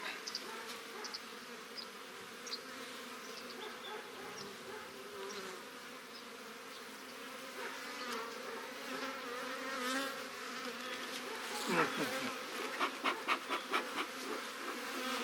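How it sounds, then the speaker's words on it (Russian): A dense, steady hum of many Central Russian bees, a fairly aggressive breed, buzzing close by, faint and continuous, with a few sharper puffing bursts near the end. "Это у нас среднерусская пчела. Она такая довольно агрессивная."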